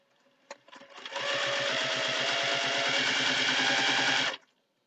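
A sewing machine runs a quarter-inch quilt seam on a jelly roll table runner: a few light clicks, then a steady, rapid mechanical stitching whir for about three seconds that stops abruptly, close and clear with no voices.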